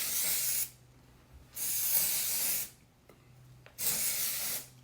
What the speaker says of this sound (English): I'm going to use the Triple Sec 3-in-1 finishing spray from Drybar